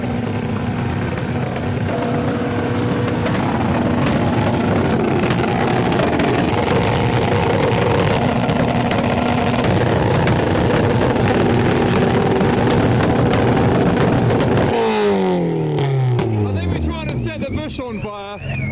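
Car engines rumble and rev in a loud, continuous mix at a car show, with a crowd murmuring and talking underneath, before the din drops toward the end.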